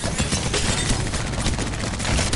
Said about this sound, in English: What is this guy shooting me with?